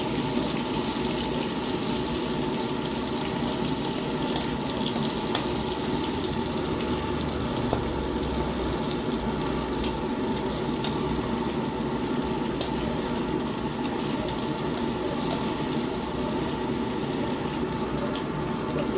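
Onions stirred and frying in a pan, with a steady, loud sizzle and crackle throughout and faint scraping of the stirring underneath, no voices.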